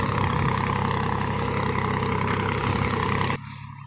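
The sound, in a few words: tractor engine running in a field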